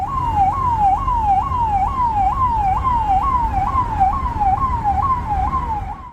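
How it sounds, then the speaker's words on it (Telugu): A police car siren wails continuously as a convoy passes on a Delhi road, a loud, close, rapidly repeating rising sweep with the low rumble of traffic beneath it. "కార్ ఒకటి సైరన్ వేసుకొని పోతున్నది."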